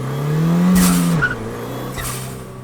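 Ford Fiesta ST small four-cylinder engine accelerating hard, a loud steady drone that rises and holds, then drops sharply after a gear change and continues at a lower pitch.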